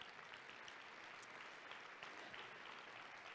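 Audience applause at a community schools forum plenary in Cincinnati, a steady, fairly faint wash of clapping from a distant crowd filling the whole stretch without letup.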